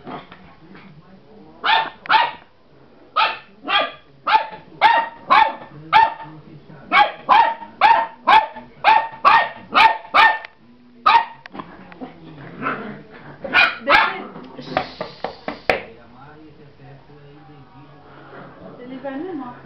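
A dog barks repeatedly in quick bursts, loud and close, with short pauses between runs of barks and a few softer yips near the end.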